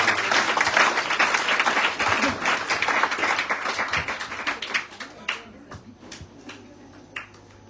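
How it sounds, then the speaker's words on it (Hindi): Audience applause at a Ramayan yagna religious gathering, dense clapping that thins out into scattered individual claps and fades toward the end. "उनके लिए हम जोरों से तालियों से उनको हम धन्यवाद दें।"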